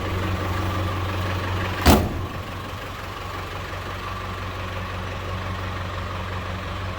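A 1994 Land Rover Defender 90 diesel engine idles steadily and close by, with an even low rumble broken by one brief thump near the start.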